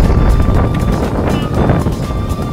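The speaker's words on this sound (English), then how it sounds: "It's windy!" Strong wind buffets the microphone with loud, rumbling gusts throughout, with a faint steady tone underneath.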